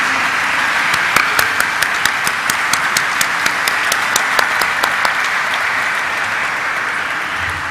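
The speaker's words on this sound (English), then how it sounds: "let's have a huge round of applause for Mr. Prem Kumar Arora, Director, Mankind Pharma Limited." Sustained audience applause at a pharmaceutical company's stock exchange listing ceremony, steady and loud throughout with crisp individual claps standing out.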